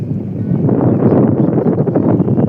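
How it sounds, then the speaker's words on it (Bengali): Cool wind blowing steadily by a river, a continuous broad rushing roar of gusts buffeting the microphone, loud and close with no gaps. "এই সাইডে দেখতে পাচ্ছ ঠান্ডা ঠান্ডা হাওয়া হচ্ছে"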